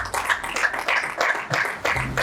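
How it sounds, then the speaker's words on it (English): Scattered clapping from an audience at a budget debate contest grand final as two contestants are welcomed, a few irregular bursts of hands in a modest room, fairly close and uneven, with a brief low hum near the end. "Round of applause for our 2 contestants."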